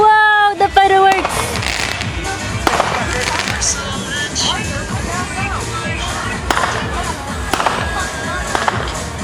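Loud New Year's Eve fireworks fill the air with a dense, continuous run of booms and crackles, with scattered sharper bangs throughout and faint crowd noise and voices mixed beneath.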